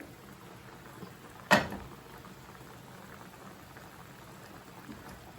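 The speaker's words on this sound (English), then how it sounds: "we want to boil it with water and cover it" Pork adobo simmers in water in a covered pot, a faint, steady low bubbling throughout with one brief sharp knock or clatter near the start.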